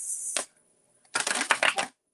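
Two bursts of tarot card shuffling, a short riffle followed by a pause and then a longer crisp flurry of snapping cards, close and clear.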